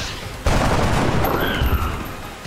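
A loud burst of gunfire in the video game XCOM: Enemy Unknown erupts and continues as a dense rattle of shots, with an electronic tone and background noise mixed in.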